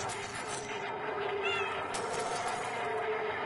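A person imitates a cat's meow while playing a game, giving a short, faint rising meow over a steady background hum.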